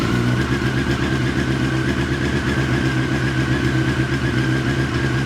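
A Honda CBR954RR fitted with a Retro Micron exhaust idles and revs steadily at close range, its deep, throbbing engine note loud and continuous with no pauses.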